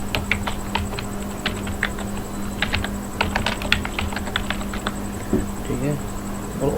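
Quick keystrokes on a computer keyboard patter in short runs as text is typed into MS Word, close and clear over a steady electrical hum, with a voice briefly near the end.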